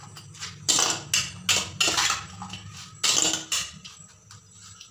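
Small fish being mixed by hand with salt and turmeric in a kitchen bowl, producing several close, uneven bursts of wet scraping and clattering against the dish with short pauses between.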